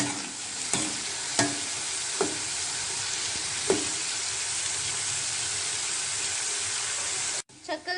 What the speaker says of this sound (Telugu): లైట్గా బ్రౌన్ కలర్లోకి చేంజ్ అవుతూ ఉన్నాయండి. ఇంకొక 2 మినిట్స్లో ఫ్రై అయిపోతాయి.